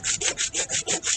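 Rhythmic back-and-forth sanding on a samurai armor kusazuri plate, six or seven even raspy strokes in quick succession, close and steady with no voices.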